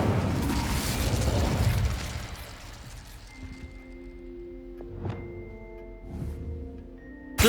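An Incendio fire spell cast in Hogwarts Legacy gives a loud rushing burst of flame that fades into a hum, followed by a few softer magical pops and thunks with steady tonal game sounds.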